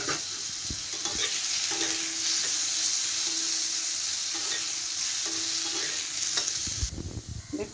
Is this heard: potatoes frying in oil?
yes